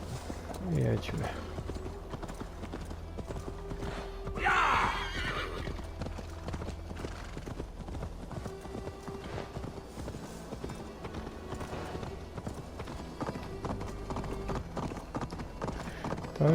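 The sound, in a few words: horse galloping in Assassin's Creed Valhalla video game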